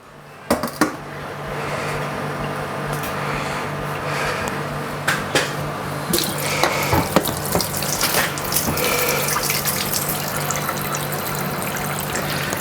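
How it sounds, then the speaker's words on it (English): Water runs steadily from a tap, a continuous hiss with occasional clinks and knocks of something being rinsed underneath. "very quickly I'm going to wash it under running water"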